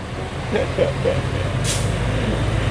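A ten-wheeler truck being loaded with soil at a pond-digging site, giving off a constant heavy diesel rumble with faint brief hisses, close and loud.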